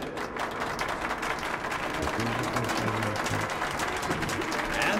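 Crowd applause at an exhibition in the video game Metro: Last Light Redux, a dense, steady wash of clapping and cheering that carries on for several seconds at even volume.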